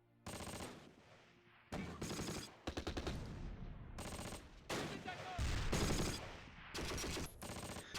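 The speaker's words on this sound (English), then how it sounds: "That Panther's shooting at something" A Panther tank in the Close Combat war game fires, heard as loud repeated bursts of automatic gunfire, several sustained volleys separated by short gaps.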